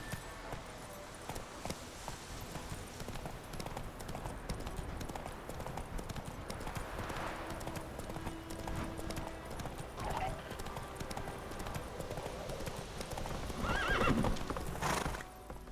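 Horse hooves clip-clopping at a steady gallop in The Witcher 3: Wild Hunt, with whinnies and neighs rising near the end, heard under faint game dialogue.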